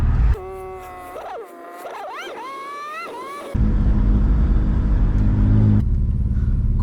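A rebuilt Porsche 997 Turbo race car made road legal, driving on a public road: a loud engine with rising and falling revs through gear changes, then a steady heavy rumble while cruising.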